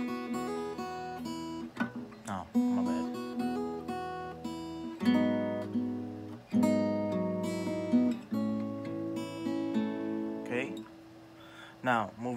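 Strummed acoustic guitar chords from a song ring out in a series of sustained, harmonically rich strokes with brief pauses between chord changes, close and fairly loud with no talking.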